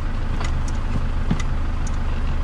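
Car engine idling steadily during a clutch fluid flush, a constant low mechanical hum with faint ticks and no voices.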